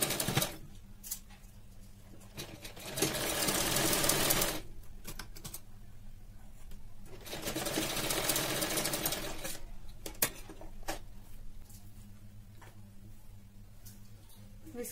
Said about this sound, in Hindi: इस कपड़े को भी पीछे की साइड फोल्ड करेंगे इस तरीके से और इस पर सिलाई लगाएंगे।